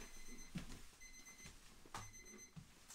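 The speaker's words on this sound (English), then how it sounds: "Why is there a clock going off?" A small kitchen-style timer goes off in a quiet room, its thin, high electronic beeps repeating in short bursts roughly every half second, faint and close.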